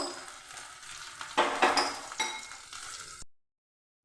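Pieces of vegetable, likely elephant foot yam, fry in mustard oil in a pan, a close crackling sizzle that swells with stirring and light clinks of a utensil before cutting off abruptly, no voices.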